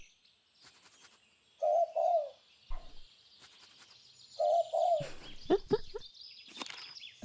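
A collared dove coos twice in a row, close and clear, each a pair of soft hollow notes, with faint chirping birds around and a brief burst of other calls near the end.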